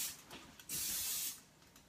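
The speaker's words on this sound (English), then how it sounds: "So try to spray this as much as possible so it doesn't stick" Cooking spray hisses into a pot in a couple of short, soft bursts, the second one longer and steadier, heard up close and fairly quiet.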